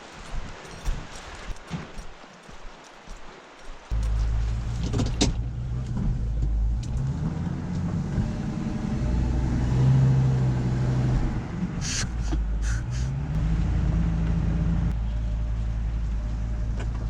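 A vehicle towing a dump trailer rolls down a dirt road at a tire and microtrash cleanup, its engine rumbling loud and steady and close after a quieter start, with rattles and brief clanks along the way.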